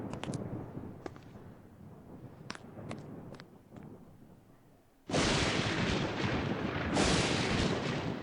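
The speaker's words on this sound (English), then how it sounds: "someone just got fucking shot!" A gunshot in the Agatha Christie And Then There Were None video game, coming as a sudden loud blast of broadband noise after a quieter stretch of scattered knocks and thuds, then holding on as a sustained roar.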